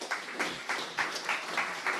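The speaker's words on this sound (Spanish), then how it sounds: "Dar un aplauso al Señor." Rhythmic unison clapping from a church congregation applauding the Lord during a service, steady beats roughly every third of a second, moderately loud and even, no talking over it.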